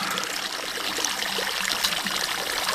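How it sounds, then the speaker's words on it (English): Water draining and trickling out of a minnow trap holding spot tail shiners, a steady close splashing stream with small irregular drips and gurgles throughout. "after I drain a little water off"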